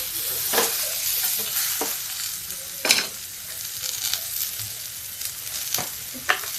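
Onion and okra frying in a pan, a steady bright sizzle with a few sharp clinks and scrapes of a spoon stirring, no talk.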